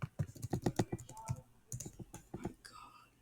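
Fast, irregular keyboard typing, close and fairly soft, in a burst of clicks with short pauses; a few breathy vocal sounds break in around it.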